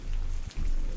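Rain falls steadily as a close, even hiss of drops on a surface, with a brief dip in the middle and no voices over it.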